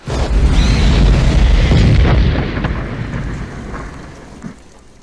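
A loud, deep explosion booms and rumbles for a couple of seconds, then fades into a lingering low roar with a small pop near the end.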